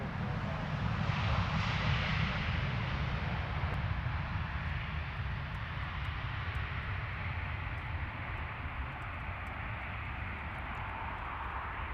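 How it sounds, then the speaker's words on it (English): An easyJet airliner touches down at Luton Airport and deploys its thrust reversers, giving a loud, sustained broadband roar that holds steady throughout before easing slightly toward the end. "Some lovely reverser action after another butter touchdown."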